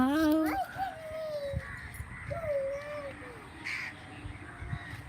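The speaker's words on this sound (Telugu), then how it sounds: "కాకి కాకి హాయ్ చెప్పు కాకి మన సబ్స్క్రైబర్స్కి." A crow caws out in the open at evening sunset, with a few hoarse drawn-out calls spaced across the moment at moderate distance against a soft, busy background.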